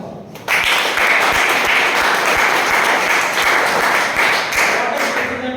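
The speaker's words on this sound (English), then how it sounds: "Very good. Clap for her." Classroom of students applauds a classmate in an accounting lesson, breaking into loud, steady clapping after a brief spoken moment, with some thumps of desks under the claps.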